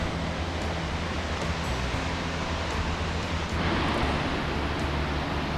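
Niagara Falls, a 47.5-metre waterfall in Goldstream Provincial Park in January, roars as a steady, dense broadband rush heard up close, continuous and loud with no voices.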